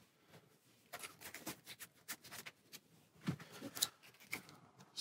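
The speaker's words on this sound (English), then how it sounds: "Shuffle your deck." A deck of game cards for a Marvel card game being shuffled, a string of quick close flicks and riffles over several seconds, light and dry with no voices.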